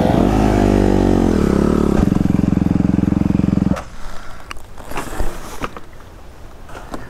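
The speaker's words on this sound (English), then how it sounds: "I can hear a bike." An enduro dirt bike engine drones and buzzes steadily for a few seconds, then cuts out, leaving scattered outdoor clatter and rustling.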